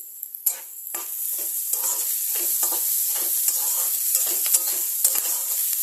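Onions and green chillies fry in a pan with a bright, steady sizzle, punctuated by a rhythmic series of scraping and clicking stirs from a spoon, close and clear, with no talking.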